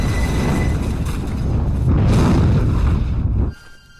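A loud, rumbling explosion from the action film Flash Point roars and sustains for a few seconds, then cuts off abruptly into a quiet tail.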